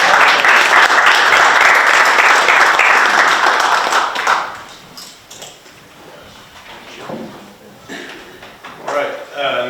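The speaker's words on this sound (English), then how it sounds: "Let's give them one more round of applause" An audience at a town council meeting gives a loud, full round of applause lasting about four seconds, then it dies away into scattered room noise, movement and a voice speaking.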